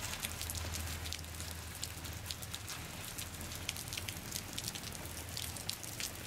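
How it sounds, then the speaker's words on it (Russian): Steady rain patters on a surface nearby in San Diego, a dense continuous hiss with scattered drops, with no voices. "Дождик."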